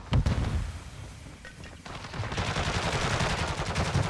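Rapid gunfire crackles through a Call of Duty Warzone 2 match on Ashika Island, with a few sharp shots up front and then a dense, sustained volley of overlapping bursts at close range.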